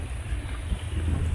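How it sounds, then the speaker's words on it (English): A small dinghy moves across the water, its low motor rumble and wash mixed with steady wind buffeting the microphone. "We're just on our dinghy boat."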